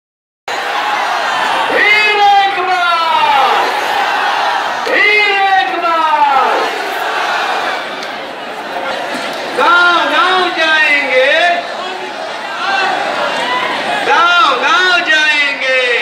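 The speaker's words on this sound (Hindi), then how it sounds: "पीएम की सभा में अत्यधिक भीड़ जुटने के कारण यह भगदड़ की स्थिति उत्पन्न हो गई है।" A dense crowd at PM Narendra Modi's rally, caught in a stampede amid flying sticks, chairs and slippers, shouts and yells loudly in continuous rising and falling waves of many voices.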